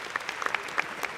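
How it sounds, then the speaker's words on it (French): Brief scattered clapping from a comedy show audience, thin and fairly faint, a handful of separate claps rather than a full ovation. "Pourquoi vous applaudissez?"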